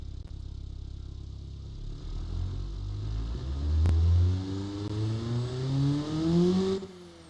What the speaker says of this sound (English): let's just go ahead and let's just listen to how this engine sounds for a sec here